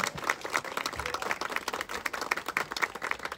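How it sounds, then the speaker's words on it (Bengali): An audience claps together in a brief, dense round of applause at an emotional family gathering, steady and fairly close with no voices over it. "একটু জোরে হাততালি হবে এই মোমেন্টের জন্য"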